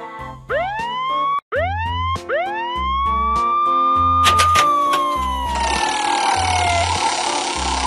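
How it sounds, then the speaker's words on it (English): Police car siren from a toy vehicle in a kids' figurine game: repeated rising electronic wails, loud and close, backed by music and a low rhythmic beat. "Police."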